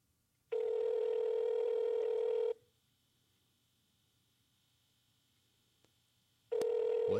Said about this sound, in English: It's fucking ringing.